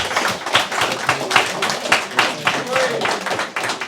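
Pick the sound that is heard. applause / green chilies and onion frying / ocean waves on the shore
applause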